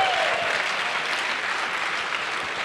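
A crowd at a collegiate cyber defense competition awards ceremony claps in a steady, dense round of applause, moderately loud and even throughout.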